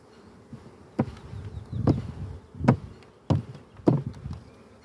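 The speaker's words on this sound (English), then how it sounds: "Now the flying bees will go back to their original side." Honey bees swarming around opened hive frames during a spring hive inspection, with a steady buzz under a series of sharp knocks and thumps as frames are handled and shaken, roughly once every second.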